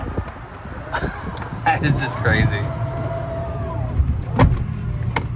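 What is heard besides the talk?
Tesla Model X falcon wing door closing automatically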